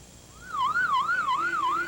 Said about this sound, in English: The wail of ambulances and fire trucks in Baghdad